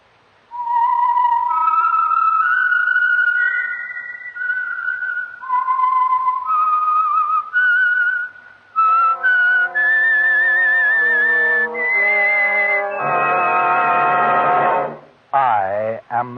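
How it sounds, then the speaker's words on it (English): A person whistles a melodic signature tune for a radio mystery program: clear sustained notes rising and falling across a short phrase, loud and alone, with a brief flourish toward the end. "the signal to listen for is this whistle that identifies the Signal Oil program"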